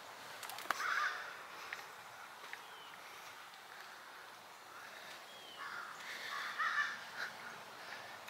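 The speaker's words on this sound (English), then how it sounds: "you can hear the birds in the trees" Crows caw a few times from a distance in trees by Lake Taneycomo below Table Rock Dam, amid quiet outdoor ambience, faint calls spaced apart with soft rustling in between.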